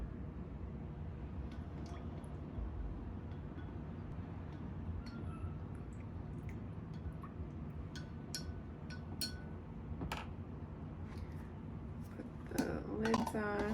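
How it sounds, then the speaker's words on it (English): Coconut kefir with chicory root is stirred in a glass jar, making light clinks and scrapes of a utensil against the glass over a steady low background hum, with a brief rattle near the end. "And now all you do is mix it up. Do a stir."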